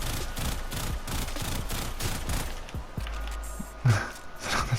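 Prisma Gorgon gun in the Warframe video game firing in a rapid, dense burst of closely spaced shots for about three seconds, then cutting off into a brief low hum and a few scattered sounds.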